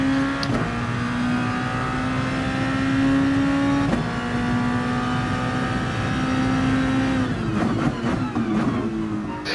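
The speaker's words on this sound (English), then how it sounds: "Now this car loves to be on throttle." Race car engine held on throttle at the Red Bull Ring in a racing video game, a steady high engine drone with brief pitch shifts at gear changes, continuous and loud, no talk.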